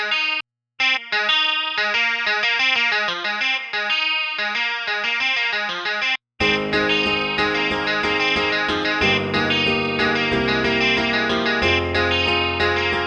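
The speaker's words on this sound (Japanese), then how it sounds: "今回はリバーブシェイパーのルームリバーブを使っています。" Electric guitar playing a melodic line, then heavier distorted high-gain chords, with a short roomy reverb tail around the notes from a room reverb with shortened decay time.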